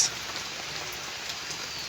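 Heavy rain from a Kalbaishakhi storm in Charmonai, Barishal falls as a steady, dense hiss close by, with no voices.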